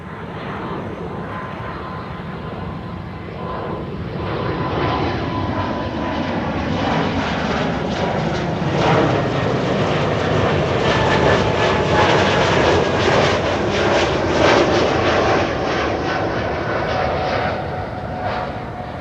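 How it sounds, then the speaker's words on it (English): A KLM Embraer E195-E2 jet bound for Dublin roars past at Amsterdam Schiphol, its engine noise swelling from a steady hum into a loud, sustained broadband rush that holds to the end, with no talk. "And here we have an E2 Embraer 195 to Dublin,"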